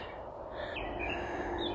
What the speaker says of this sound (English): Just a beautiful bird.